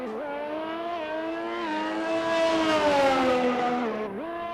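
A Ferrari race car in a racing video game on a circuit in Portugal drives close by, its engine note climbing and falling smoothly through revs with a harmonic-rich whine, then dipping sharply at a gear change.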